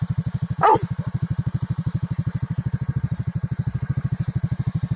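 A single short dog bark cuts through the steady throbbing rumble of an idling Toyota Land Cruiser engine nearby.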